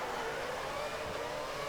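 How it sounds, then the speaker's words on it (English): A race car engine in the F1 2013 video game holds a steady, high revving whine before the race start, with no talk over it. "Put on the revs now."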